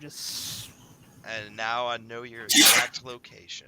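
A sharp, hissy sneeze bursts out near the middle of the moment, loud and close, between stretches of someone talking at a tabletop role-playing session.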